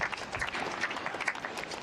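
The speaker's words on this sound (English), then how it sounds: "Another clap." Spectators at an under-18 girls' singles tennis final at the Australian Open give a short burst of polite clapping, a busy patter of many hands heard at moderate level.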